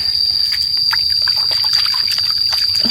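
Water trickles and splashes steadily as hands wash something in a running forest stream, with a constant high insect whine over the close, continuous flow.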